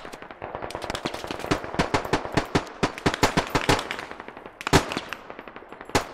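Rapid bursts of automatic machine-gun fire in a shooter video game, with dense, sharp shots repeating throughout, a loud crack standing out near the end, and no talking.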